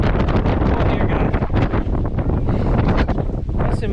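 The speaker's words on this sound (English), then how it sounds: "It's so windy out here." Strong gusting wind roars across the microphone at Thief Butte on the Columbia River in Washington, a loud continuous buffeting rush with no clear voices.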